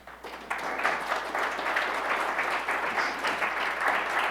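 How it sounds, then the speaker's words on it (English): After a security talk on Kubernetes, a conference crowd bursts into applause about half a second in, a full, steady clatter of many hands holding level until the end. "Big round of applause"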